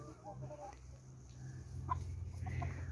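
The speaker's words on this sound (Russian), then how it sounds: "Ой, там петух." Chickens cluck at low volume over a steady low hum, a rooster among them, with a few short calls scattered through the clip.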